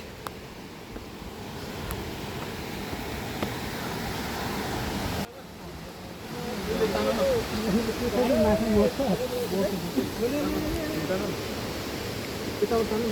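Mohini waterfall near Kathmandu, where people are fishing, sends out a steady broadband rushing roar that grows stronger midway, with voices calling out over the water.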